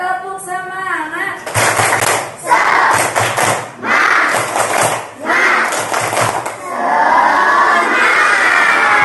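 Group of children in an Indonesian classroom lesson clapping a spirited clap chant in rhythmic bursts, mixed with loud shouting voices and thumps, close and lively.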